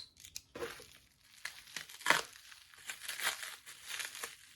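A package being cut open before an ink unboxing, with quiet crinkling and tearing of packaging in short irregular bursts, close and faint.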